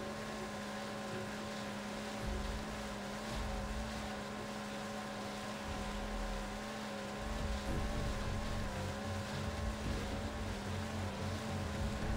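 Motorboat engine in Far Cry 3, a steady droning hum with a strong low tone holding throughout, loud and continuous with slight swells, no voices.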